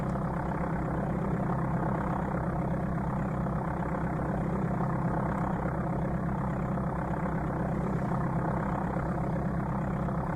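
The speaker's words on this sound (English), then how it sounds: "And the engine sound was exactly like this." Aircraft engine from the Amiga game Flight Simulator II drones as a continuous, loud, unchanging low buzz that fills the whole stretch without pauses or speech.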